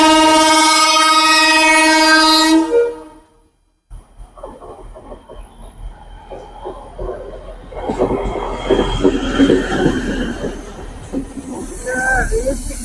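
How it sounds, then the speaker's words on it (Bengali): A lone railway locomotive passes on a single line at a quiet, deserted station in Howrah, ahead of a local train bound for Amta. A loud, sustained horn blast opens, then cuts off, and a rumbling, clattering passage follows, building and fading nearby. "এই মুহূর্তে একটা ইঞ্জিন আসছে।"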